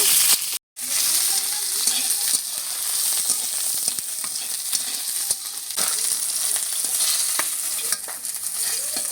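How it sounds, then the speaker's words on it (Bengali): Pointed gourd (potol) frying in oil in a kadai, a steady loud sizzle lasting throughout with occasional stirring scrapes and one brief gap near the start; no talk. "পটলটিকে ভাজা ভাজা করে নেব"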